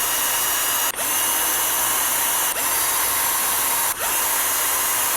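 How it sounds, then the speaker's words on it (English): A power tool whines steadily and loudly while backing out starter screws from an aluminum 1.9-inch RC wheel, the drone broken by three brief dips where the bit pauses between screws. "we're going to go ahead and remove those 4 starter screws"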